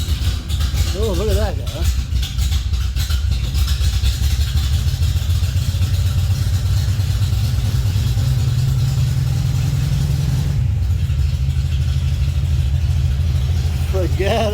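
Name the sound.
1954 Ford F-100 engine starting and revving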